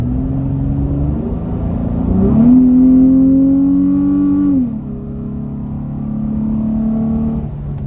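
Supercharged 2022 Nissan Pathfinder with a Stillen roots-style blower accelerating, engine revs climbing to a loud peak then easing off as it shifts and settles into a steady drone, close and alone without talk.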